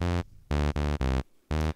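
Moog One synthesizer playing two sequencers at once, sounding as a pulsing run of loud, harmonically rich tones with short gaps between them, no voice present.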